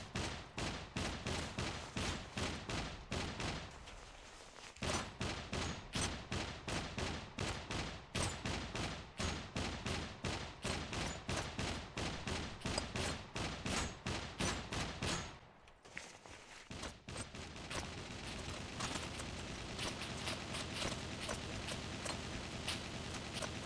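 Rapid bursts of gunfire in the multiplayer video game SCUM, dense repeated shots firing loud and close for most of the stretch, with a short pause around the middle and a brief gap near the end before a steadier rumbling barrage.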